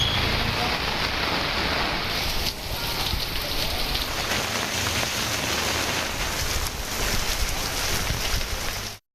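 Heavy monsoon rain pouring down steadily in Tamil Nadu, a dense continuous hiss of drops on surfaces, loud and unbroken before stopping abruptly at the end.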